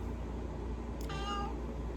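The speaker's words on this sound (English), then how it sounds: "my cat is old and she is vocal" An old cat gives a single short, clear meow midway, close to the listener, over a steady low background hum.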